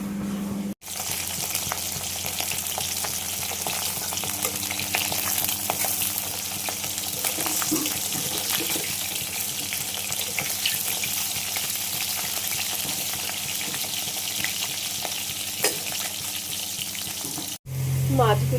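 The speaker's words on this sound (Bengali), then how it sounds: "এখানে ভেজে রাখলাম আর ওই তেলেই একটু আলু কেটে ভেজে নিচ্ছি" Fish, washed and rubbed with salt and turmeric, fried in oil with cut potatoes added to the same oil, giving a steady, dense sizzle that runs continuously at close range with faint clinks and no talking.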